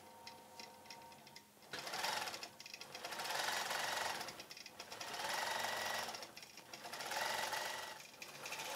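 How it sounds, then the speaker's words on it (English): A computerized quilting machine stitches a cross stitch quilt border with a fast, steady mechanical needle chatter that swells and fades in repeating waves as it travels back and forth. "So we'll just go ahead and stitch this border now."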